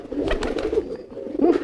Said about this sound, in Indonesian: ini merpati jambulnya nggak tahu nih giring atau enggak tuh